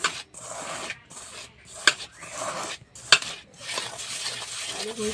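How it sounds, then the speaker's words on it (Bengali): Rice flour and salt are worked together in a bowl for spicy steamed rice pitha, heard as uneven bursts of close scraping and rubbing with two sharp clinks and brief pauses, no voices. "এবার আমি ভালো করে মিশিয়ে নিলাম"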